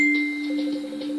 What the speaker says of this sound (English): If you hear that thing going off, that's just my message or notification.